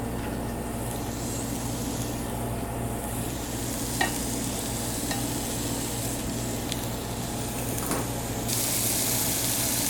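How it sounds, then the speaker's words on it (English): Beef steaks sear in a hot frying pan to brown, a soft steady sizzle with occasional small pops and a brief louder spray near the end, heard alone without talk. "now that the frying pan's ready to go, just going to take the individual steaks"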